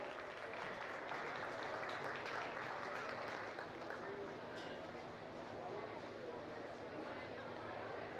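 Audience applause in a county fair livestock arena, a steady dense wash of clapping sustained for several seconds, with talk mixed in and faint crowd noise beneath.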